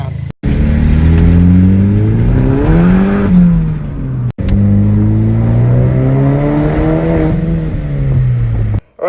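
Chevrolet HHR SS with a ZZP catless downpipe and full turbo-back exhaust, revved loud and close in two long sweeps, engine pitch climbing and falling each time, with a short pause between.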